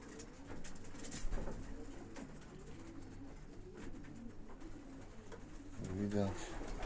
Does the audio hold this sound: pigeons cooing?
yes